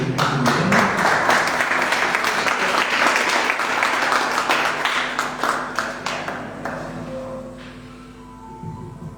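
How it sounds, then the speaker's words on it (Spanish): An audience applauds at a book event, dense clapping holding steady for several seconds before thinning out and fading toward the end. "le damos un fuerte aplauso"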